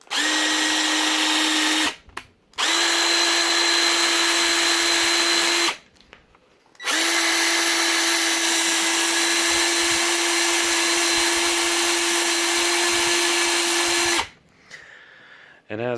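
A freshly regreased Craftsman C3 impact driver whirs loud and close in three sustained bursts, stopping briefly between them.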